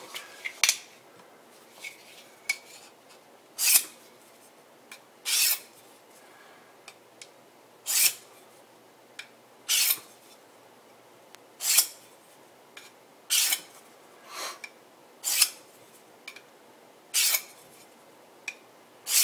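Repeated rasping strokes of a cheap bushcraft knife blade drawn across a sharpening stone, each stroke a short scrape at a fairly steady, unhurried rhythm, close and alone.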